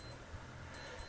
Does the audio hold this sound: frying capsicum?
no